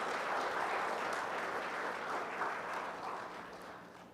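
A conference opening session audience breaks into steady, dense applause filling the room, slowly fading toward the end.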